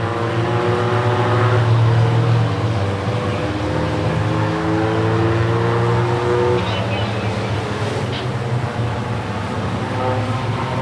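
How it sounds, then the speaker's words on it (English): Race cars run in a hobby-class feature race and their engines make a steady, loud drone with shifting tones for the whole stretch. Faint speech sits under the engine noise. "Seth Geneva-Co trying to catch the back end of Muller's 36 machine."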